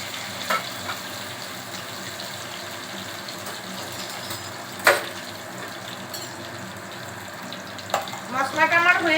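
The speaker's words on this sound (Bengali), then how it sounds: "মশলাগুলো খুব ফাটছে বলে তার জন্য অল্প 1 চিমটি নুন দিয়ে দিলাম।" Whole spices and green chilies crackling in hot oil with a pinch of salt, a steady close sizzle with sharp pops near 0.5, 5 and 8 seconds and a burst of crackling near the end.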